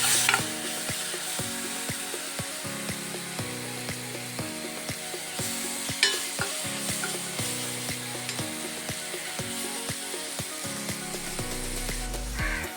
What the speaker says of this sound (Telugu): ఇప్పుడు ఇందులో 1 టేబుల్ స్పూన్ అల్లం వెల్లుల్లి పేస్ట్ పచ్చివాసన పోయే వరకు ఫ్రై చేసుకోవాలి